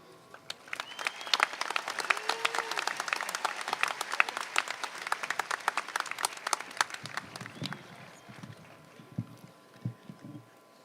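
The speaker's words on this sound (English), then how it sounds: "Again, a big applause for our keynote speaker, Mr. Jeff Schwartz." An audience at a high school commencement ceremony applauds the keynote speaker with crisp, bright claps that build into a full round, then gradually thin out into scattered claps and low crowd murmur.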